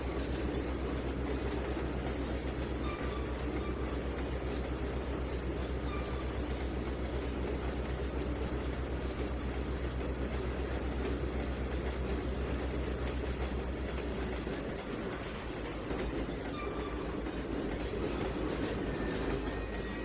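A train rolls steadily along rails in the Trainz 2019 simulator, a continuous loud rumble with wheel clatter and faint squeal, running alone without voices.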